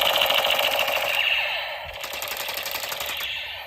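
A toy military gun fires a rapid electronic machine-gun sound effect, a dense rattling burst that runs continuously and loudly at close range for several seconds.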